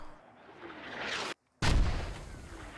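Mortar fire in a military game: a rising whistle builds, goes silent for a moment, then a heavy boom with a rumbling tail.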